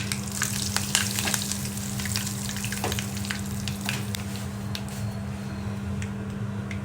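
Curry leaves being tempered in hot oil, with a steady, close frying sizzle and crackle that carries on throughout over a constant low hum.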